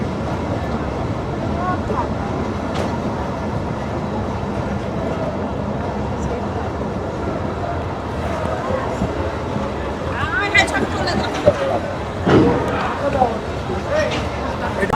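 A Mongla commuter train rolls into Mohammadnagar railway station in Khulna, its steady rumble and rail noise blending with crowd babble on the platform, with a few louder clanks and surges near the end.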